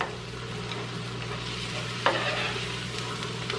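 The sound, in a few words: mushrooms sautéing in a pan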